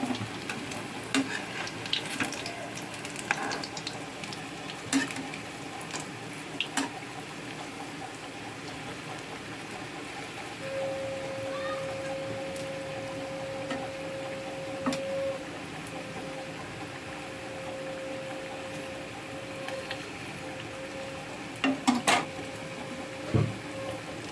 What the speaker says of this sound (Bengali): ফুলুরিগুলো ভাজা হয়ে এসছে এবার একে উল্টে দেবো একটু